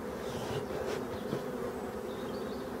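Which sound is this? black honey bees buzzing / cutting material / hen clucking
black honey bees buzzing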